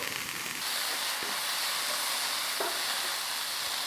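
Garlic and onions fry in a pan for a vegan seitan and mushroom stroganoff, giving a steady, even sizzle and hiss throughout with a few faint scrapes of stirring, no voices.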